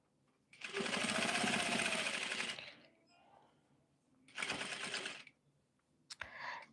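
A home sewing machine basting with a long 5.0 stitch runs in two bursts of rapid, even mechanical chatter, close and clear, separated by quiet pauses, then a brief start at the end.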